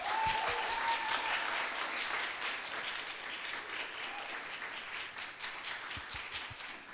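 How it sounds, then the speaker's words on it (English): Audience applause for Chia-Hui on the Taiwan Main Stage at a women's resilience celebration, a steady bed of many hands clapping that gradually thins and softens, with a few louder individual claps near the end. "please give Chia-Hui another round of applause"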